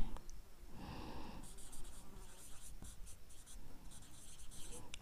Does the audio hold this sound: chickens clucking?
no